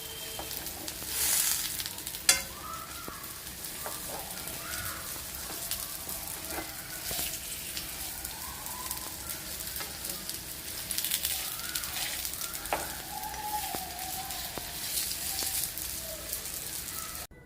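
A sweet snack made from semolina and banana fries in ghee in a frying pan, giving a steady close sizzle that lasts throughout, with occasional clinks and scrapes as pieces are turned over.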